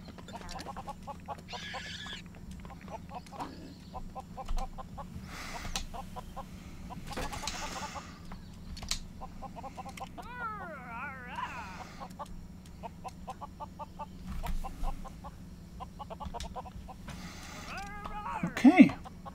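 Chickens clucking in the Lego Worlds video game, a run of short repeated clucks and squawks mixed with other game animal calls, with someone talking over them throughout.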